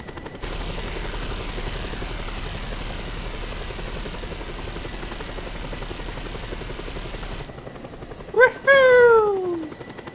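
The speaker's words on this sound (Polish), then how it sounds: "Kolejny helikopter rozpieprzony." A helicopter in the video game Just Cause 2 drones steadily with a whirring engine for several seconds, then cuts off as a short burst of other game sounds follows.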